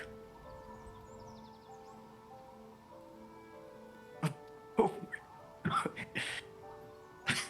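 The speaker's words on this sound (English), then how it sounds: "I hear dog." A dog barks several times at moderate distance, short sharp yaps clustered in the second half, rising over a quiet room with a low tonal hum and faint background noise.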